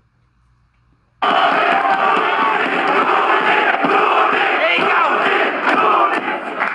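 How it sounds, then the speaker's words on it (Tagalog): A rap battle crowd erupts after near silence into loud sustained shouting and roaring that holds steady throughout. "Lumipat na sa side ko, yung sigawan ng mga tao."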